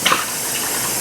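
Hot water gushes steadily into an oily pan, a continuous close-up rush with a brief splashy burst at the start and no talking.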